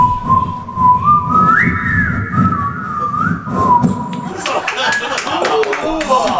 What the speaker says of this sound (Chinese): 我不知道为什么我口哨吹得这么难听